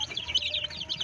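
Grown chickens cluck and chatter close by among eleven-day-old chicks, a quick run of soft, busy calls with high peeping over them; no talk is heard.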